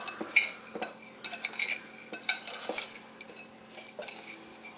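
Breadcrumbs are stirred into olive oil in a bowl with a utensil, making soft, close scraping and clinking taps in an irregular rhythm, quiet and alone without any talking.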